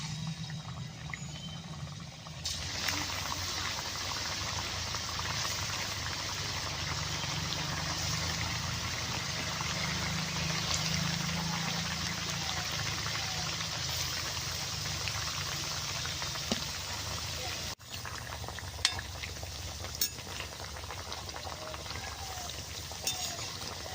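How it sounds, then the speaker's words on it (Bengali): Multigrain semolina pitha fries in hot mustard oil, a steady close bubbling sizzle that holds evenly throughout with a few small clicks near the end. "তেলটা বেশ সুন্দর গরম করে পিঠা দিয়ে নেবো।"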